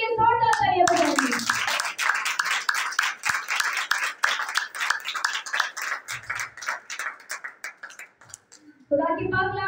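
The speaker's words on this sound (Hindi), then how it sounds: "उसकी सच्ची परस्तारों के लिए जोरदार तालियां बजाएंगे" Congregation clapping loudly at a women's worship gathering, a bright burst of many hands after a voice, fading toward the end as speech resumes.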